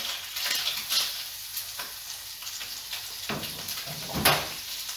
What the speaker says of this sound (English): Add 25 grams of butter to the pan.